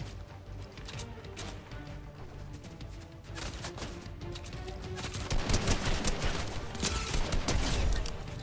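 Rapid gunfire from a scoped assault rifle in the video game Fortnite, with dense bursts of shots that build louder toward the end among hits and other game sounds, no talking.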